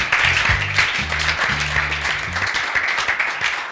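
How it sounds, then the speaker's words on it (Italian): Applause for the workers at a cyclocross season finale in Vittorio Veneto, a crowd clapping steadily outdoors while low rhythmic music thumps underneath. "Un applauso anche agli operai,"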